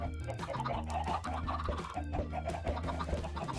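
Chickens cluck and a rooster crows in Minecraft, the game's poultry calls repeating over steady background music throughout.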